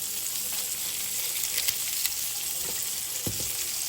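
Butter sizzles in a hot pan alongside burger patties, a dense, even frying hiss up close with a few light clinks, no voices.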